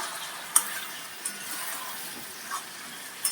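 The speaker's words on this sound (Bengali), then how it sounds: "এবার এটা আমি ভালো করে কষাতে থাকবো।" Mutton curry masala being sautéed and stirred in a pan after sugar is added, a soft steady sizzle broken by a few sharp scrapes and clinks of the spoon.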